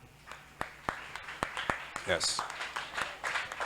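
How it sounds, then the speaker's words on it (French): A church congregation at a funeral ceremony claps in slow, spaced single claps at first, then in a denser, louder patter. A voice speaks briefly over the clapping. "D'ailleurs, l'église applaudit bon Dieu."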